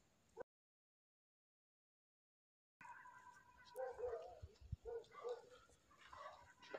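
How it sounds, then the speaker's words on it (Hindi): Dogs bark repeatedly at night near a house, short sharp yaps scattered at moderate distance after a brief silent gap, with faint background noise throughout. "कुत्ते देखो लगातार भौंक रहे हैं।"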